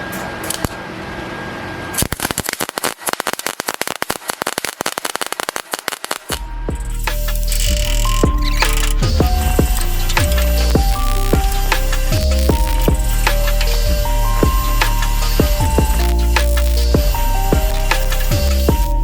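Spot welding a replacement floor pan on a truck cab gives a loud, close, crackling sizzle for about six seconds. Steady background music then takes over and covers it.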